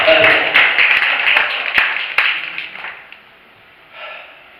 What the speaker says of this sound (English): let's give myself a round of applause